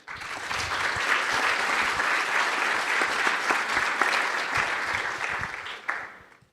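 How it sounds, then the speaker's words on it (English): Sustained, dense audience applause filling a conference hall, many hands clapping evenly for several seconds before tapering off at the end. "I will ask you for a great applause for our fellow panelists here."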